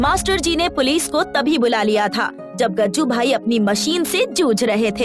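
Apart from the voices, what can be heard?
None of the usual background noises is heard.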